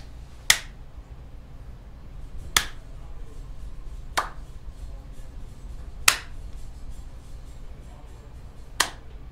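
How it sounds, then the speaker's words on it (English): Five sharp hand claps, used to check a microphone during a live stream, ring out one at a time about every one to two seconds over a low steady room hum. "Clap your hands like that."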